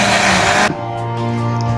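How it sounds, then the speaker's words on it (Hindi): A kitchen blender grinds soaked mash dal lentils with water into a thick paste, whirring loudly before dropping abruptly to a lower steady hum, close and alone without voices. "ब्लेंडर के अंदर अपनी दाल को ब्लेंड कर लेंगे"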